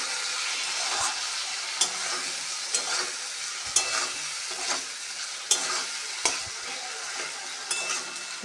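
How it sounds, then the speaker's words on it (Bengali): Tomatoes with turmeric and salt sizzle and fry in a pan for an egg curry, with repeated scraping stir strokes and utensil taps over a continuous crackle, close and clear. "টমেটো দিয়েছি, হলুদ লবণ দিয়ে ভালোভাবে টমেটোটা গলে নেব"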